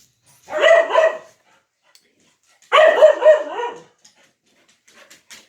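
Dogs bark in two loud bursts of several rapid overlapping barks, each lasting about a second with a pause between, then only faint scattered noises in a quiet indoor setting.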